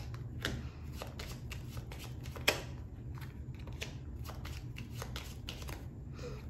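Tarot cards being shuffled by hand: a fast run of soft papery riffles and flicks at close range, quiet and continuous, with one sharper snap partway through.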